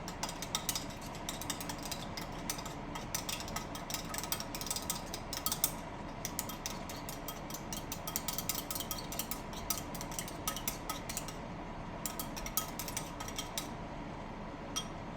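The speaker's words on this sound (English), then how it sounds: "You don't want to beat these eggs too much, but you just want to make zigzags like that." Eggs beaten with chopsticks in a bowl, a continuous rapid clicking and tapping of rapid zigzag strokes, close and steady for the whole stretch.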